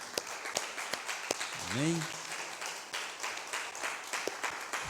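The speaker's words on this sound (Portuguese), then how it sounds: "Vamos aplaudir o Senhor mais uma vez?" A church congregation at a Brazilian worship service claps in scattered, uneven bursts, with a voice speaking and a short sung or called phrase rising above the clapping partway through.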